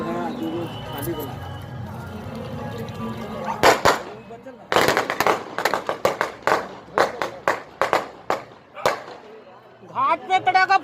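Firecrackers bursting at a river ghat during Chhath Puja, a rapid string of sharp loud cracks and pops after a stretch of crowd noise, with a dense crackling burst near the end.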